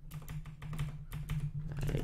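Code being typed on a computer keyboard, a quick close run of soft key clicks in an uneven rhythm.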